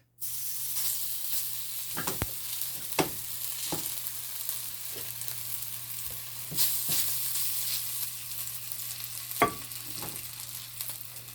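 Beef browning in hot oil for a beef and broccoli stir fry gives a steady, fairly loud sizzle throughout, broken by a few sharper crackles and pops, with no talking.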